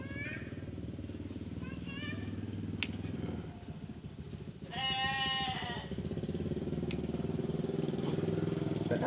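A goat gives one wavering bleat midway, close by, over a continuous low engine-like drone that carries on throughout.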